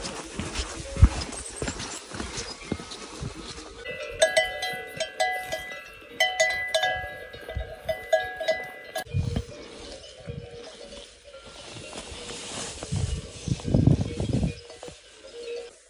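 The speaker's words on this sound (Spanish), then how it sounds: "Están ahí todos los caballos" Horses on a mountain pasture in the Picos de Europa, with hooves clopping and bells clinking and ringing at close range. The steps come in an irregular, scattered way, and there is little or no talking.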